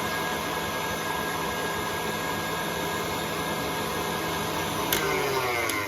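An electric mixer whirs steadily as meringue is beaten with sugar for a coconut meringue pie, a constant motor hum with a brief clink near the end.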